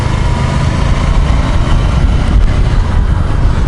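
A Honda CB500X motorcycle engine pulls away in second gear with a steady, rough low rumble and a constant, close, loud drone and no talk.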